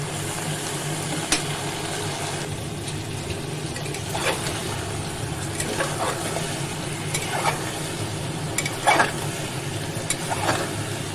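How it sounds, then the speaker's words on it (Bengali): Spice paste sizzling steadily in a pan for a katla fish and taro curry, with occasional scraping stir strokes cutting through the constant close frying hiss. "এবার ভালো করে কষিয়ে দেব।"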